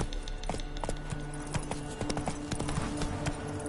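Geralt's horse Roach trotting in The Witcher III, hooves clip-clopping in a quick, steady rhythm of sharp close hits over a low ambient background, fairly clear and moderately loud.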